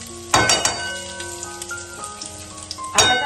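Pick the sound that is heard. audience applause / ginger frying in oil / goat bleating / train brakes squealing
ginger frying in oil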